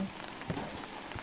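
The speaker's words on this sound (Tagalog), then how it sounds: "umuulan na gabi." Steady patter of rain at night during a typhoon falling on a surface, a soft continuous hiss with scattered drips, brief and fairly quiet.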